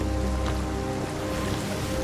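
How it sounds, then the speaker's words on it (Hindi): Rain falls in the pirate video game Sea of Thieves at sea, a steady, dense hiss of rain mixed with a low rolling wash of ocean, continuous and without talk. "अरे बारिश आ गई यार"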